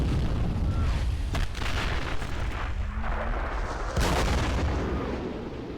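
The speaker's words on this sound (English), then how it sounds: "let them fire away with their artillery" Artillery fire in a video game set in the 1933 Chaco War: a steady roar of distant battle broken by heavy booms, with two sharp blasts standing out amid continuous rumbling.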